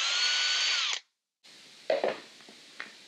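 A power drill removes screws from a prefabricated bathroom sauna panel, whining loudly for about a second, going silent briefly, then running again at a lower pitch with a few knocks and clunks.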